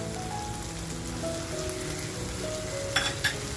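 Crab cooking in garlic butter masala on a full gas flame, a dense continuous sizzle and crackle like rain on a surface, steady and fairly loud with a couple of sharp ticks near the end, no talk.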